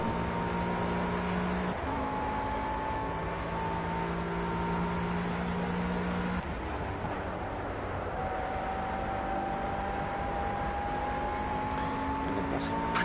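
A McLaren GT3 race car laps Silverstone in the racing game Project CARS. The engine drones steadily at high revs with gliding pitch shifts as it changes gear, continuous and loud throughout.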